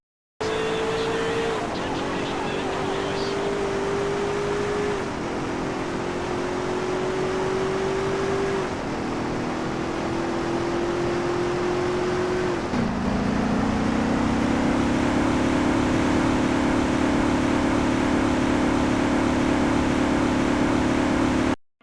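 A synthetic car engine from GTA San Andreas Definitive Edition drones steadily, its pitch climbing in several stepped surges like gear shifts, then settling into a lower, louder continuous hum.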